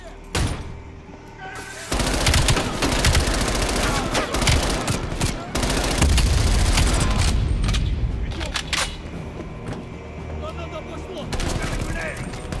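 Sustained video-game gunfire from the Call of Duty Cold War campaign, dense bursts of automatic fire and heavy blasts that keep up loud and close across the whole stretch, with a voice talking over the shooting.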